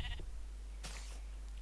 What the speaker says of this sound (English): Go out the way, sheep.